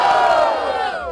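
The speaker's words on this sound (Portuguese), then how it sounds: "Barulho para cima do Lerache!" At a Brazilian rap battle in Barueri, São Paulo, a crowd gives a loud, brief burst of cheering and chanting that fades slightly toward the end.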